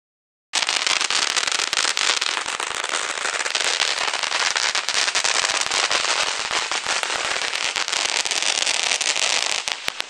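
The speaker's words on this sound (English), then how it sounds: "That's a fountain of fire." A firework fountain gives a dense, continuous crackle and spray of sharp pops, loud and close, that runs unbroken for about ten seconds after a brief silence.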